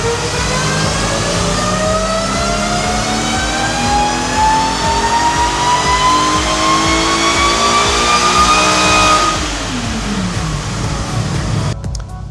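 A supercharged Subaru BRZ/Toyota 86 engine revs on a dyno, pitch climbing steadily under load with supercharger whine, then dropping off as the throttle closes near the end.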